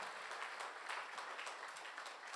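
Church congregation applauding a visiting pastor and his wife, a continuous, even wash of many hands clapping, fairly distant and not loud.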